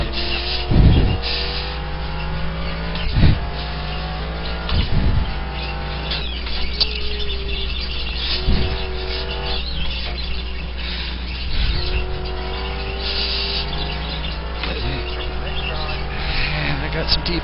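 A GT race car in the iRacing sim on the Silverstone circuit, its engine droning steadily with shifting pitch and short blips as it brakes and changes gear, heard continuously from on board.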